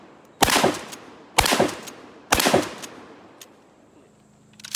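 A Mossberg 590A1 Mil-Spec pump shotgun fired three times at roughly one-second intervals, each loud blast decaying with echo, followed by a faint mechanical click and a later sharp sound.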